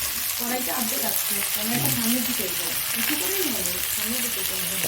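Onions fry in a pan with salt, a dense constant sizzle and crackle close up, while someone talks over it throughout.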